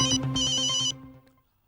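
A phone ringtone plays loud and close in a short melodic burst, then cuts off and trails into silence.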